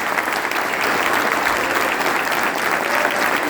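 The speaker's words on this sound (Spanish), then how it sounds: "Pido un aplauso a la militancia y a los compañeros" Sustained applause from a crowd at a political rally, loud and close, an even roar of clapping with no pause across the whole stretch.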